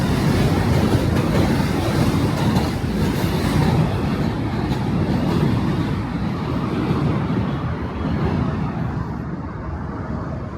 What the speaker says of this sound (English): That is the M train.